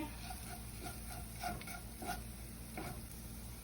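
Spice masala with green chillies and salt being stirred in a pan for potato vada filling, faint sizzling with a few soft, evenly spaced scrapes.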